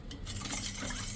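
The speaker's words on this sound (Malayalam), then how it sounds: "കൈവിടാതെ ഇളക്കി റെഡിയാക്കിയെടുത്ത് എല്ലാം സെറ്റാക്കി എടുക്കണം" A pot of boiling coconut pudding mixture being stirred steadily, a soft continuous scraping and churning with faint bubbling underneath, close and quiet throughout.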